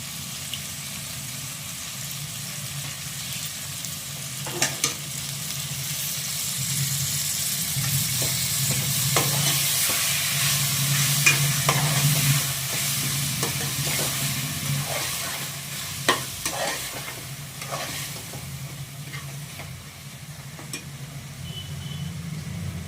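Mutton biryani masala with a little yogurt sizzles and hisses steadily in the pan, with occasional scraping clinks of stirring spread through it, close and fairly loud.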